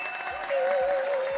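Cheering and applause from a small group on a reality-style model competition show, a steady burst of clapping with a whistle-like tone rising partway through.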